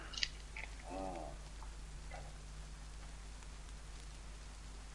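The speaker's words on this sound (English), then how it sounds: "The rain." Steady, quiet rain hiss in the video game DayZ fills the background with a low hum beneath it, a few faint ticks and taps scattered on top.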